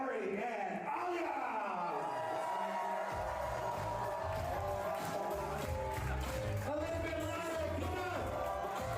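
Guests at a wedding reception cheer and whoop for the groom's siblings in a large hall, a loud, continuous crowd roar mixed with chatter and a voice over amplified music.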